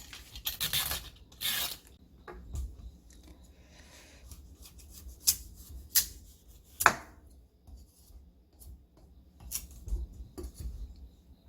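Scraping, rasping strokes of a peeler across hard kabocha squash skin come in irregular bursts, close and fairly quiet, with occasional sharper clicks.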